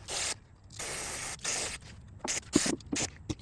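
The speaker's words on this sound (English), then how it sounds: "You can hear and see the gas bubble, so I know it's getting through there." Gasoline bubbling and spraying through a carburetor on an engine that won't start after being stored with ethanol fuel, heard as hissy bursts of fizzing separated by short pauses, close up and with no voices.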